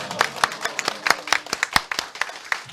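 A union assembly audience at a joint election debate claps in a loose, uneven rhythm, with sharp individual hand claps standing out distinctly against a softer crowd background and no cheering clearly audible.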